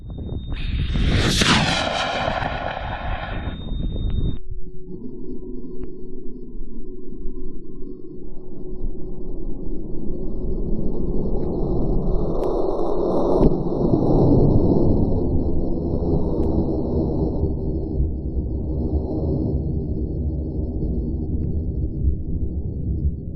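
A Dream Tribute model rocket roars off the pad on its way to Mach 1, a sudden loud blast followed by a sustained rushing thrust that fades slowly as it climbs away, with no voices.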